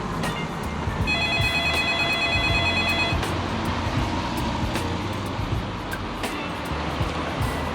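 A phone ringtone plays a repeated electronic tone for about two seconds while a call is placed from a student boarding house in Apeldoorn, Netherlands, over a steady rushing background noise with a few clicks.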